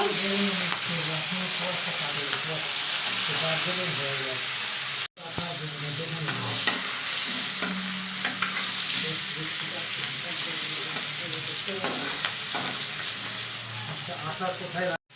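Shrimp sizzle steadily in hot oil in a pan, a continuous, close, bright frying hiss with occasional stirring, broken by one brief cut partway through.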